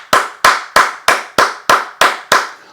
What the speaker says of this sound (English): So I'm going to give a hand clap for that right there.